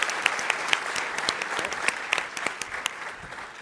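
A large audience at a startup pitch competition claps steadily and loudly, with dense, sustained applause holding throughout without any speech.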